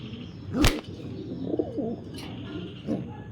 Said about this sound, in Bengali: ব্রিডিং কবুতর।